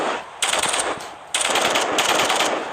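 Vandal rifle fire in Valorant: two long automatic bursts of rapid, loud gunshots, close and punchy, separated by a brief pause, with no talk.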